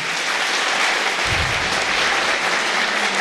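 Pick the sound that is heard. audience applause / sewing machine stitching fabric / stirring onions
audience applause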